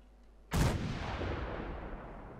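A single heavy gunshot blast from Fallout 4, with a loud sharp onset followed by a long rolling echo that slowly fades, heard alone.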